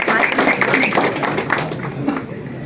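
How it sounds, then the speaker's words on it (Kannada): Audience clapping at a cricket media trophy logo launch event, a dense patter of hands that stays fairly loud across the clip with no clear speech on top. "ಜೋರ ಚಪ್ಪಾಳೆ ಬರಲಿ ಅವ್ರಿಗೋಸ್ಕರ."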